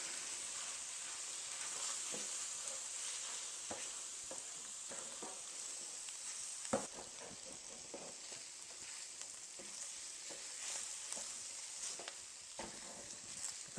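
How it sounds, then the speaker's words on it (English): Flour being stirred into a beef stroganoff sauce in a pan, a continuous quiet sizzle with frequent soft scraping strokes of a utensil across the pan bottom, close by and without speech. "Just sprinkle it over it and stir it in and cook for 1 more minute."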